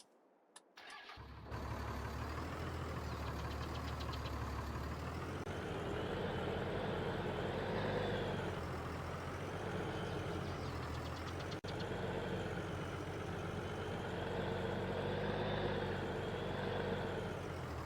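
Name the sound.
truck engine idling in Farming Simulator 22 video game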